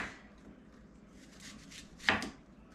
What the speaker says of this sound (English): so now we are going to cut them